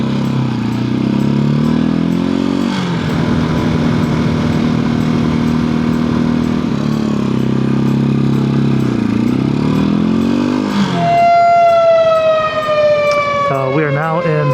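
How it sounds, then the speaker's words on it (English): A fire engine siren wails loudly over the steady drone of a Halcyon 250 motorcycle riding on the road near Three Oaks, the siren's pitch sweeping and then falling as it passes. "if you can hear me over that siren"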